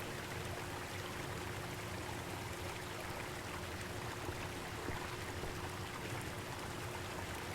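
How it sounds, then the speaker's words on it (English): Water flows steadily in the video game The Fabled Woods, a soft continuous stream or trickle that stays even and fairly quiet throughout, with no voices. "The water sounds like water."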